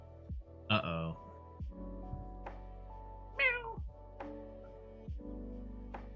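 A cat meows several times, two louder drawn-out calls and a few softer brief ones, close by against a faint steady hum.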